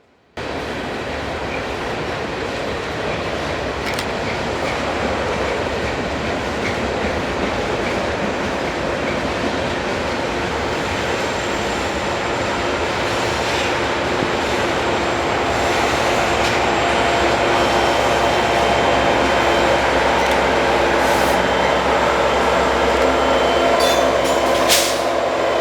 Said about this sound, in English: In the middle of 10K's train would be an NS-EMD SD70 ACE.